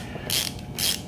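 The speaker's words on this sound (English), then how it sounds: "if you can afford to go get this little T25 on a socket, all you need is the little one." Two quick ratcheting strokes from a ratchet with a T25 socket loosening a bolt on a 1984 VW Rabbit Convertible, close and crisp, with a short gap between them.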